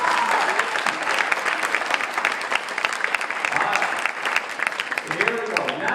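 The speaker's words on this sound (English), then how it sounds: "So give them a round of applause." An audience gives a loud, sustained round of clapping for dog rescue workers, dense and continuous for several seconds with a few voices mixed in.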